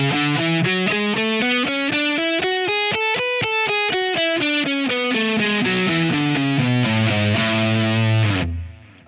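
Distorted electric guitar runs up a major scale one note at a time and back down, with evenly spaced notes, loud and close, before the last note fades at the end.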